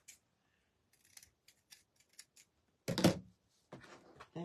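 Scissors snip through wrap material on a Halloween wreath, a series of soft, sparse clicks and snips followed by a louder rustle of handling, close by and without talk.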